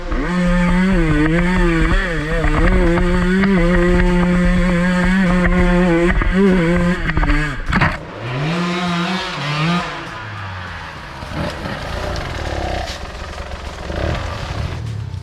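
A KTM EXC 150 TPI or Husqvarna FE 250 motorcycle engine runs loudly and steadily, idling with a buzzing drone, then briefly revs and settles into a rougher, uneven rumble.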